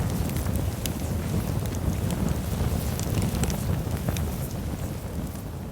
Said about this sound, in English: If I hadn't recorded the ambiance of my fire up close with my mic